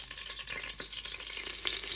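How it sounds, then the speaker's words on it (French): Beef sizzles in the heated bowl of a Cookeo multicooker, a close, soft frying hiss with small crackles and pops over two seconds. "On place notre viande dans la cuve. On va la faire dorer de chaque côté."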